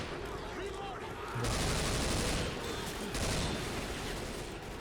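Rapid automatic gunfire in the zombie shooter game Left 4 Dead 2, dense continuous bursts with heavier surges, with a player's voice talking underneath.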